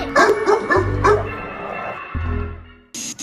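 A cartoon dog named Tyson gives a quick run of high yipping barks and whimpers, loud and close, a few short bursts in a row, with a bright squeak cutting in at the end.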